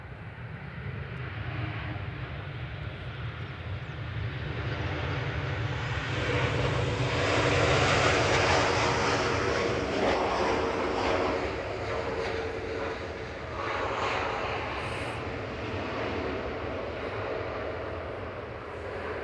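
A plane lands on the runway at Manchester Airport, a broad jet roar that swells to a peak midway and then holds as a steady rumbling rush, loud and fairly near.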